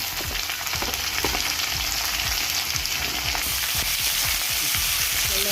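Sliced onions with curry leaves sautéing in a pan for chammanthi, a dense, loud crackling sizzle close up, with frequent soft scrapes of stirring throughout.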